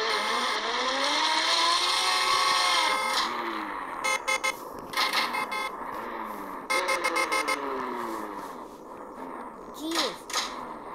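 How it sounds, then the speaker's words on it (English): Repeated car horn honks blare in short bursts over a loud, continuous engine and game soundtrack in Car Dealership Tycoon, with some talking mixed in. "Stop honking, please."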